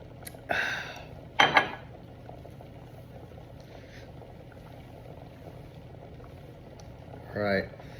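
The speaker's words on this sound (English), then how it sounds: "I would call that a pretty good boil" A pot of water at a rolling boil on a stove bubbles steadily in the background while people talk over it in short bursts.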